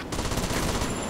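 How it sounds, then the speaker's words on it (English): Rapid automatic gunfire in a shooting video game, a dense, loud burst of shots fired in quick succession with no pause. "I've been shooting lots of things."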